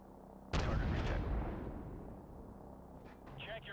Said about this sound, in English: Check your fire. You're shooting at friendlies.